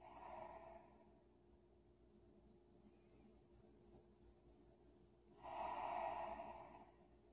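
Deep ujjayi breaths in a yoga practice: one long ocean-like exhale at the start, a quiet stretch, then another strong, close, breathy exhale near the end, with no talking.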